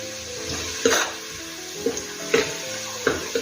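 Onions sizzle in hot oil with a steady crackle, punctuated by a few louder stirring clanks of a spoon against the pan.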